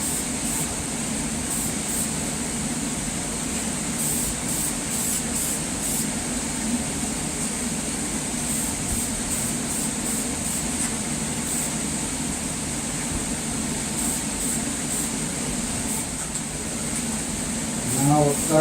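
Spray gun applying a thin second coat of two-stage paint to a Ford 302 engine block in a backyard, a steady close hiss running unbroken throughout.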